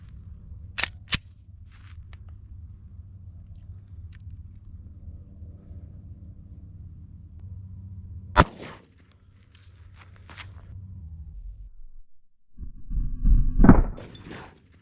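A 9mm handgun fired at a ballistics gel block from 15 feet: several sharp cracks ring out, one louder shot stands out, and a low engine-like rumble underlies the scene, with a thumping burst at the end.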